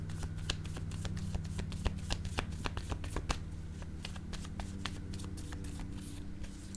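Tarot cards handled and shuffled close up, a steady stream of quiet papery flicks and snaps with a low hum underneath, no voices.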